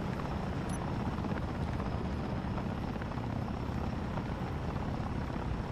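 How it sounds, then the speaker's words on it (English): A helicopter thrums in the video game Cannon Online, a steady, unbroken rotor drone that stays at an even level the whole time. "Don't mind the helicopter noises."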